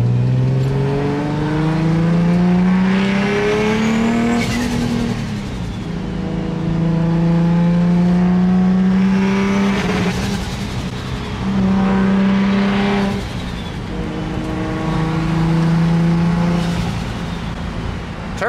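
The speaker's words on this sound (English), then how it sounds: "Turbo sounds great." A turbocharged car engine with a fault, straining under boost, revs up and down repeatedly: rising and falling engine tones in several long, loud surges, with turbo whine and no talking.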